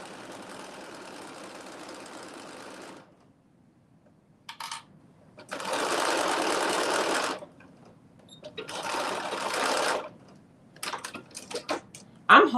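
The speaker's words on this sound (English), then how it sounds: "the very next step is we will be doing stitching the lining to the bodice" A sewing machine stitches a dress lining to its bodice in bursts: a steady run of about three seconds, then several shorter loud runs with pauses and small clicks between them, fairly close.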